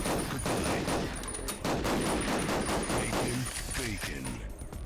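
A shotgun fires repeatedly in the Duke Nukem video game, a burst of rapid gunshots mixed with game effects, with a voice talking over it.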